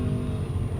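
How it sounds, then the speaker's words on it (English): An off-road buggy engine fitted with a Predator carburetor holds a steady, loud, droning roar at the rev limiter through a Formula Offroad run, with no pauses. "Sounds like rev limiter there"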